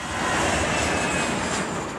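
A fixed-wing airplane on a departure route over Boulder roars loudly and steadily overhead, a broad sustained engine rumble with no voices.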